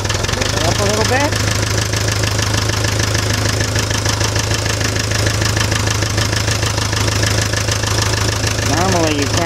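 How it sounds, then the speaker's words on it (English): A Fordson Major tractor engine idles with a steady low, knocking rumble throughout, close and loud, with faint mechanical creaks on top. "It's slow when the tractor's idling."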